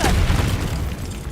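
A Confringo explosion spell going off in the video game Hogwarts Legacy, one loud close boom with a rumbling decay.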